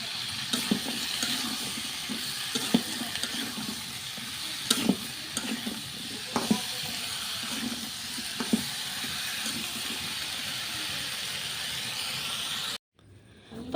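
Taro root, potatoes, green chilies and onions sizzle steadily in spices in a pan, with a spoon clinking and stirring in irregular scrapes, close and continuous before an abrupt stop.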